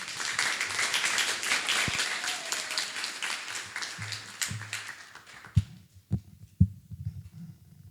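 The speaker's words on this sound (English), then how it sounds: "keep that applause going" Audience applause after a poem at a poetry contest, a dense roar of clapping that thins out and fades, leaving a few scattered claps and soft thumps.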